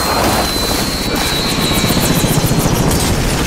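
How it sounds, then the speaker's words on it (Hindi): A helicopter in Call of Duty Modern Warfare gives off a loud, close, steady rotor roar with a fast rhythmic blade chop. It fills the whole short stretch with no talk. "गया हेलीकॉप्टर"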